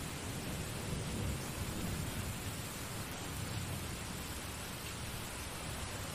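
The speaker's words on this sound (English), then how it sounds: "I'm guessing the storm has woken you up?" A night thunderstorm fills the air with steady, dense rain hiss and low rolling thunder, a continuous broadband wash with no distinct claps and no voices.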